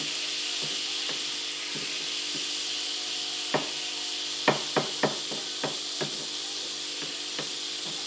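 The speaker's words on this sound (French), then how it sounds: "On va attendre que le beurre soit bien fondu" Butter melting and sizzling in a frying pan for burgers crackles steadily, with a few sharp utensil taps against the pan over the hiss.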